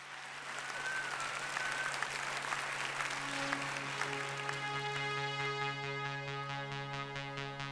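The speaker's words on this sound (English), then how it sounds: "Let's give it a big round of applause for HighFive." Audience applause at a startup pitch night: sustained, dense clapping from a crowd, close and steady throughout, with no talking over it.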